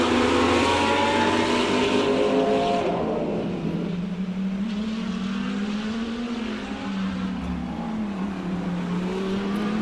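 Race cars roaring around Dezzi Raceway, a loud engine pass fading early, then a steady drone of cars circling the track with rising and falling pitch.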